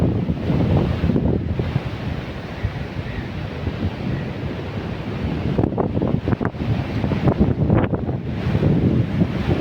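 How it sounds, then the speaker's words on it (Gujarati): Cold wind blows hard at the seaside in Diu, a loud, steady roar buffeting the microphone, with gusts swelling and easing and a faint wash of surf beneath. "ઠંડો પવન આવે"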